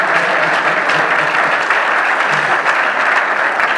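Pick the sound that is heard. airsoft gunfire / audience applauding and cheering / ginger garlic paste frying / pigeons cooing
audience applauding and cheering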